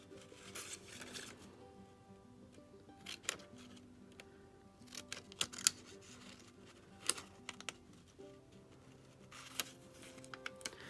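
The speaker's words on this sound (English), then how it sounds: "small detail scissors work best for this" Small detail scissors cut a pencil-marked winter village design out of card for a tri-fold Christmas card. The snips are quiet and close, arriving as a run of sharp, irregular clicks over a faint background, with no talking.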